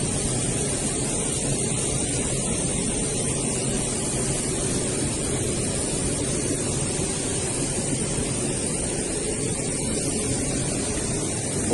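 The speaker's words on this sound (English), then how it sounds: "That's the sound of the jet engines, Matthew." A steady, loud broadband roar of jet engines fills the cabin of a Russian plane carrying wounded soldiers, constant and unbroken throughout with no talk.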